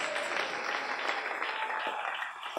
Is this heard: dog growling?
no